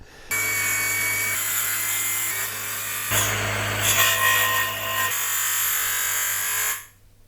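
A bandsaw resaws a thick wooden board for jewelry box sides. There is a steady loud whine with the blade rising into a harsher cutting roar midway, then it settles back and stops abruptly.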